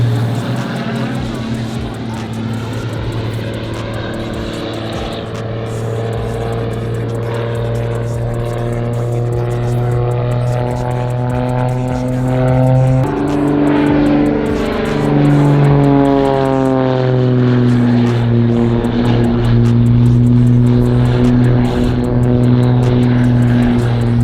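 Steady, loud drone of a Cessna Skylane 182T propeller plane's engine heard in flight, its pitch shifting and swelling over the stretch, with people talking faintly beneath.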